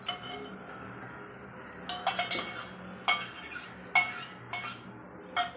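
Semolina and curd being mixed in a mixing bowl, with soft intermittent spoon clinks and scrapes against the bowl in an uneven rhythm, close and fairly quiet.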